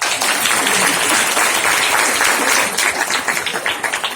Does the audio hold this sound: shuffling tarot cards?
no